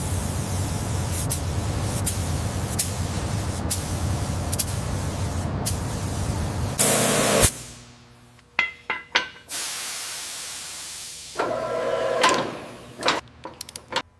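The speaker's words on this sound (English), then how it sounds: "I'm beginning application on the chassis, the spray gun laying down smooth, even coats" A spray gun hisses steadily and close while laying red paint onto a Lamborghini Countach chassis, then stops; short bursts of spray, clinks and a hissing air release follow in a quieter stretch.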